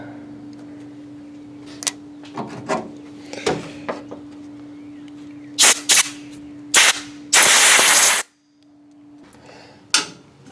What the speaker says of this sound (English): I'll put some air to it to blast any junk out of this end.